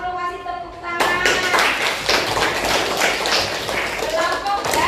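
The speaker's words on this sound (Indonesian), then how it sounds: "kasih tepuk tangan" Classroom clapping for a student group after a grade is announced: dense, steady applause from many hands starts abruptly and fills the rest of the clip. A voice is heard just before it begins.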